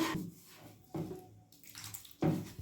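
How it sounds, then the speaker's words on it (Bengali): Water is added a little at a time to semolina and stirred into dough for Bengali chushi pitha, giving three wet, splashy bursts of mixing with quieter scraping between them and no voices. "সুজিটার মধ্যে অল্প অল্প জল দিয়ে আমি নাড়িয়ে নিচ্ছি"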